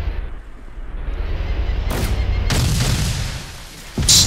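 Enemy gunfire in the military shooter game Arma 2: a low rumbling backdrop broken by a couple of sharp, loud cracks and a heavy boom near the end, with no talking.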